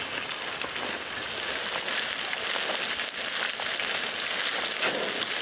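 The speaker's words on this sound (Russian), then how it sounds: "Он нужно жарить его отдельно и съедать сразу же после обжарки." Steady, close frying sizzle of pike belly fills the whole stretch, a dense crackling hiss from a hot pan with no talking.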